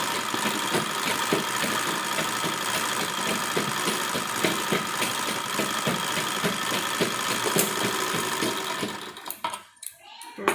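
An interlock overlock sewing machine stitching the hem of a frock, a steady loud mechanical whir with rapid ticking that runs for about nine seconds, then stops, leaving a few clicks.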